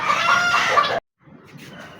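Golden Misri hens clucking and calling at close range, a loud burst for about a second before a short silence, then quieter farmyard clucks and rustling.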